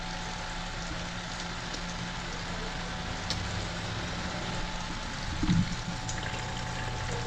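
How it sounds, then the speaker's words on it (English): A pot of water at a rolling boil for seafood pasta in a home kitchen in Medellin gives a steady, soft bubbling hiss throughout, with one brief louder gurgle near the end and no talking. "Now we're getting a good boil"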